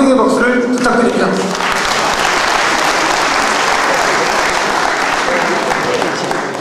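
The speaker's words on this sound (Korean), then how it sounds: "모두 뜨거운 환영의 박수를 부탁드립니다" A warm welcoming round of applause at a school class reunion homecoming day, starting under the tail of a speaking voice and then swelling into loud, continuous clapping from a large crowd.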